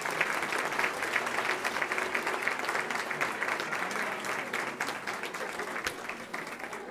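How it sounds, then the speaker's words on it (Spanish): Enthusiastic applause from a crowd at a school family festival celebrating a German school's twentieth anniversary in Cuenca, steady and dense clapping that continues evenly throughout and tapers slightly near the end. "Un aplauso fuerte para ellos,"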